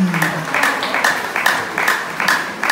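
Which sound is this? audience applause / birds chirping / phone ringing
audience applause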